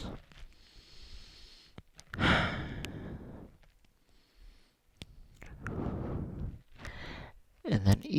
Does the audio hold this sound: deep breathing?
yes